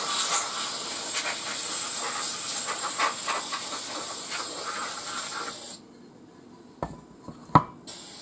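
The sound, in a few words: Lionel 224 engine hissing as it runs out of air pressure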